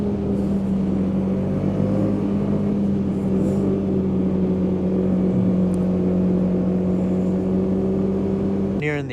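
A 2024 Polaris Indy Adventure 137 snowmobile with the ProStar S4 four-stroke engine runs at a steady drone throughout, loud and close, with a faint click near the end.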